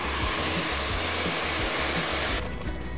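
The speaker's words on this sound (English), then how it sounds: "rough dry it in with your hands just to get the product in the hair with a blow dryer." A blow dryer roars steadily and loudly while drying hair styled with product for a Great Gatsby look, its whine cutting off abruptly near the end with no talk.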